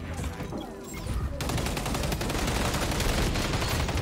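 Rapid gunfire from an XDefiant firefight, dense bursts of shots that start after a quieter moment and then keep going loud and continuous to the end.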